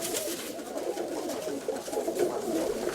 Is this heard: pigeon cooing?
yes